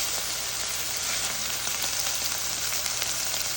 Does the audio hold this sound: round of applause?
no